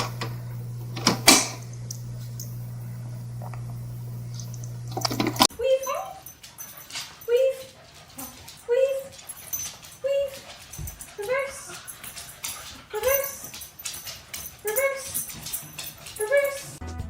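A dog makes a series of short, low grunting vocalisations, roughly one every second or so, close by after an opening burst of other noise, with people talking intermittently around them.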